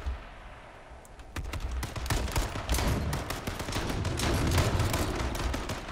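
A rapid burst of gunfire in H1Z1 King of the Kill crackles in sharp repeated shots after a quiet second, running on as a loud, steady volley.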